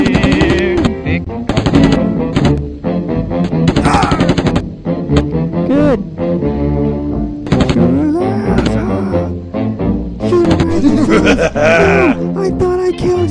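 Gunshots in the video game Bear Gunner, with repeated sharp shots and bursts mixed under loud, constant talking and game noise, including growl-like bear sounds.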